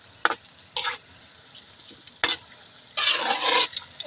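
Overripe bananas frying with sugar over a slow fire, with a faint background sizzle broken by several short stirring scrapes and a longer louder scraping burst near the end.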